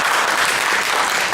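A loud, dense burst of applause fills a congressional candidates' public forum, steady and close throughout the brief moment.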